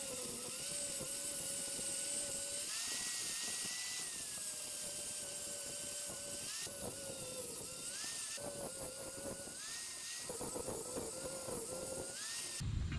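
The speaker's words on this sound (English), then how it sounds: "let's get into cutting these studs off." A Drill Master angle grinder with a metal cutting wheel grinds off wheel studs on a C5 Corvette, a loud continuous whine that dips and rises in pitch as the disc bites and eases, close by, with no talking.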